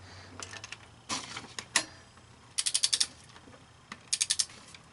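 A wrench torques the head bolts on a 2003 Honda Civic engine, giving scattered soft clicks and then two quick bursts of rapid ratcheting close by, with faint background hum.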